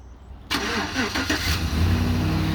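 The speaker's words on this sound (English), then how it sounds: "And I'll show you how to remote start it." A 2011 Chevy Silverado pickup truck starts by remote: a short quiet pause, then the engine cranks and catches, settling into a loud steady idle nearby.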